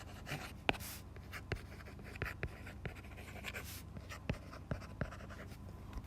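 Marker or chalk strokes on a board while math problems are worked out, a series of soft, irregular taps and short scratches, faint and close, with no talking.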